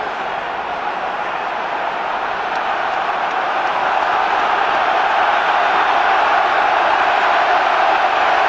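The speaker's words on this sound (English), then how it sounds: "The level of the crowds cranked up, trying to will England forward" A dense stadium crowd roars steadily throughout an England versus Ireland rugby Six Nations match, the broad wash of cheering swelling slightly louder toward the end, with no clear voices standing out.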